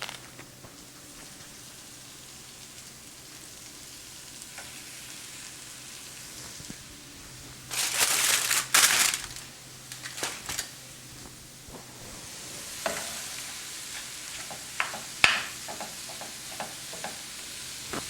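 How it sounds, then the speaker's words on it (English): Ground beef sizzles steadily in a hot pan on a home stove as it browns, with a burst of louder scraping and stirring midway and more intermittent spatula clatter and crackle toward the end. No one speaks. "So you want to brown your ground beef as well."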